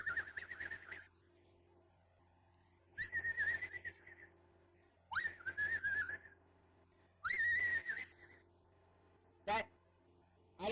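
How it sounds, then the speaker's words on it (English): A person whistles in four or five separate sustained phrases, each a second or so long with pauses between, over a low steady hum. "That's weird I can whistle like that."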